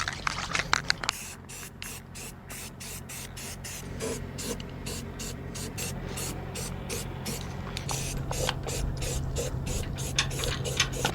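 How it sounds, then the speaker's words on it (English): Spray paint hisses from an aerosol can onto a newly welded trailer jack, starting with a few quick short bursts and then settling into one long continuous spray, close and steady. "This stuff is the best spray paint."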